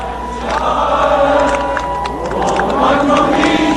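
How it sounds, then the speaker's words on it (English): A crowd of demonstrators softly singing the national anthem outdoors at a morning ceremony, a sustained, blended wash of many voices holding long tones, moderately loud and steady throughout. "the crowd sings the national anthem"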